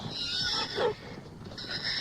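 A frightened horse lets out a single loud, shrill neigh, rising and falling over about a second, heard fairly close against a quiet background with no talking.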